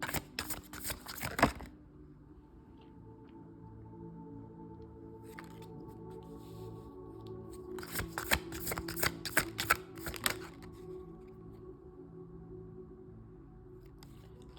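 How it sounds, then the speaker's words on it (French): Tarot-style cards shuffled and drawn for a card reading, with crisp riffling bursts at the start and again midway, separated by quieter handling and soft rustles, no voices. "Avec ce jeu, je vais prendre 3 cartes."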